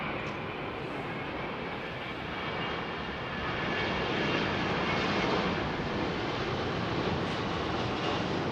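Airliner on the runway at London Heathrow Airport, a loud, steady broadband jet engine roar that swells slightly midway and holds, heard at moderate distance without talk.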